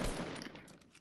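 Gunfire in Fortnite comes as a short, rapid burst of shots that fades quickly, fairly quiet and brief.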